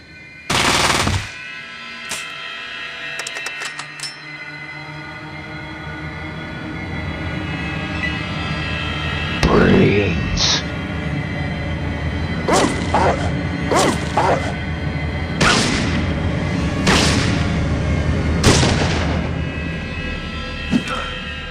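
Gunfire in the Fallout video game, with loud bursts and repeated shots scattered over a steady, dense background of game noise.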